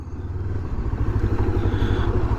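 A Macbor Montana XR5 motorcycle rides off-road on a dirt track, its engine a loud, steady close-up drone with a rough, pulsing low rumble and gravel clatter throughout, no talk.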